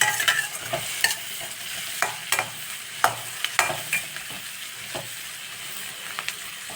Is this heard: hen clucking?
no